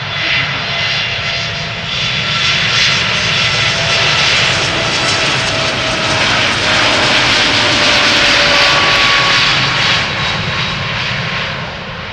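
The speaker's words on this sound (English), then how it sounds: "It sounded very like a derated engine." A TUI airliner bound for Pafos takes off from Amsterdam Schiphol on a derated jet engine. The engine gives a loud, steady roar that swells slightly and then holds for the whole span, with no voices.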